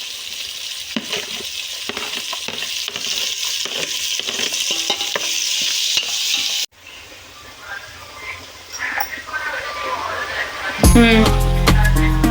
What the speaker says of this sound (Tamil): இப்போ வந்து நம்ம இந்த கேரட் பீன்ஸையும் போட்டு அந்த வெங்காயத்துலேயே நம்ம வதக்கிக்கலாம்.